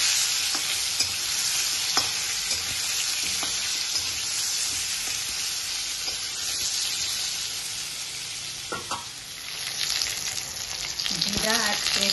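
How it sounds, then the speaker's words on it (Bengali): Pointed gourd and potato fry in a pan with a steady, dense sizzle throughout, close and moderately loud, broken by occasional stirring scrapes. "এবারে পটল আলু ভাজছি"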